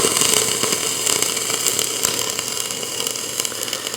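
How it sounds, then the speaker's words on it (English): Welding on a steel skid: a continuous crackling, sizzling hiss with small irregular pops, fairly close and steady throughout, with no voices. "And then we'll weld this one."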